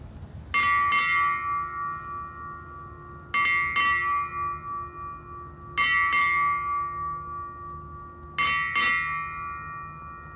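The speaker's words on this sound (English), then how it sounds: "Let us take a moment of reflection as we sound eight bells in honor of club members" A ship's bell rings in four pairs of sharp strikes, eight in all, each pair followed by a lingering metallic ring that fades before the next, at a yacht club opening day ceremony.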